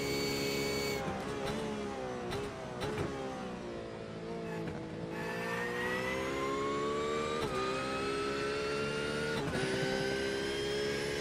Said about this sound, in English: If nothing more, just to enjoy the sound of that Porsche